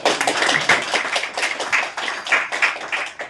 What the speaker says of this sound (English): let's give a round of applause to Jean-Luc, who's in the back here